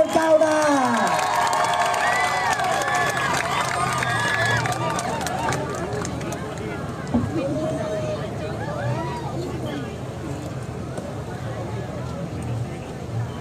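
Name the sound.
crowd applauding and cheering at a rally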